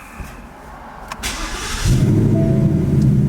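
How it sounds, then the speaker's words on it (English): After a moment of faint clicks and whirring, the V8 engine of a 2018 Ford Mustang GT on E85 fuel cranks and catches, settling into a deep, loud rumbling idle. "we're gonna wait 10 seconds here, and then we're gonna start the vehicle"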